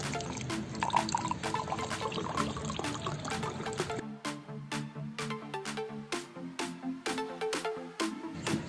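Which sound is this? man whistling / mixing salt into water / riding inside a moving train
mixing salt into water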